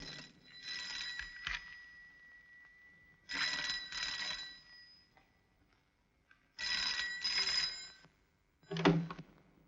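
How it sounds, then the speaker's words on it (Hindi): A telephone bell rings in three long bursts separated by pauses, followed by a shorter fourth burst, clear and moderately near in an indoor home scene. "घंटी बज रही है।"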